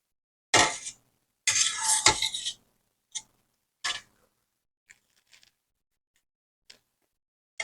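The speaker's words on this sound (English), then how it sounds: "I'm going to place my thermometer in the pot" Metal thermometer set into a pot of dyed yarn, giving a couple of loud clinks and scrapes against the pot, then a few faint, scattered ticks with quiet gaps between.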